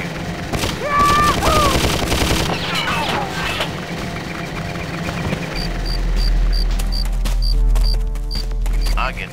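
Gunfire in the Full Throttle adventure game, loud bursts of rapid shots with booms and a low rumble, mixed with game sound effects and music.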